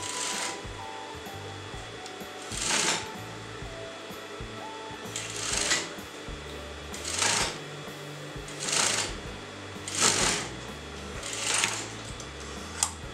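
A sewing machine runs a basting stitch on a crop top in short bursts, about seven whirring runs of about a second each, spaced evenly apart over a quiet background.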